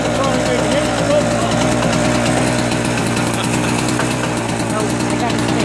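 A Harbor Freight GEN1250A portable generator, modified with a catalytic converter, runs steadily and loudly up close with a buzzy, even engine drone that never lets up.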